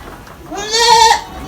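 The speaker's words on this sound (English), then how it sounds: "You see we have some more lovely graded female goat here" Female goats in a livestock farm pen give a single loud, drawn-out bleat lasting under a second, close by, with quiet pen ambience around it and no talking.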